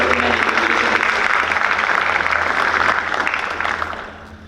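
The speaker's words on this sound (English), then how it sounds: "Please give yourselves another round of applause." Parents applauding themselves at a parent appreciation night, a dense wash of clapping from a seated crowd that holds steady and then tapers off toward the end, with a low hum underneath.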